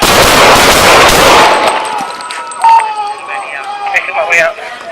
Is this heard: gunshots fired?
yes